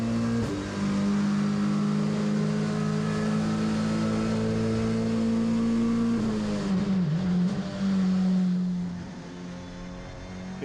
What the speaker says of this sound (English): watching through the front window of the EPS Couriers car of Johan Free.